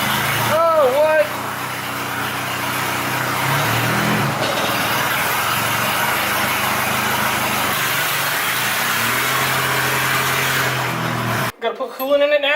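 Nissan Hardbody drift truck engine running steadily with a loud, rough drone, while people talk over it nearly throughout; the sound cuts off abruptly near the end.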